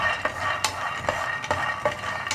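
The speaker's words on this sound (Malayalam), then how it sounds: "അപ്പോൾ നമുക്കിത് ആദ്യം ഇളക്കി കൊടുത്ത് വറുത്തെടുക്കാം." Peanuts roasting in a pan, stirred with repeated scraping, rattling strokes that come roughly every half second over a low background, close up and without speech.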